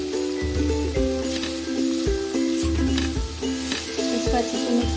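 Tomatoes sizzle steadily in a pan while being stirred for palak paneer, a continuous close frying hiss with scraping strokes and no talk.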